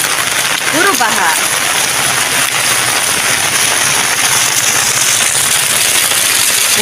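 Heavy rain pours steadily on a flooded street while someone walks outdoors, a loud, dense hiss of drops hitting surfaces with a brief chirp-like sound early on.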